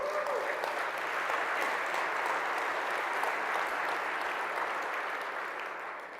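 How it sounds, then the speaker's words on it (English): Summit audience applauding a speaker, a wide, even wash of clapping from a large crowd that carries on steadily and fades slightly at the close. "I think we need an applause."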